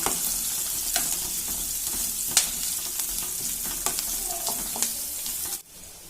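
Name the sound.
onions sautéing in a pan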